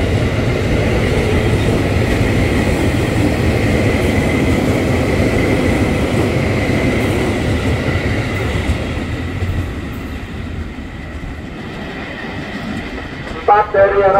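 A KRL Commuter Line electric train pulls out from the upper level of Manggarai station with a loud, steady rumble and rattle of cars that gradually thins and fades, ending with a few short clanks nearby.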